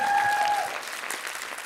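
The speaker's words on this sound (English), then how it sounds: "Round of applause" Audience applause after a live beatbox performance at a youth event, a dense wash of clapping that tapers slightly over under two seconds, with a brief held tone at the start.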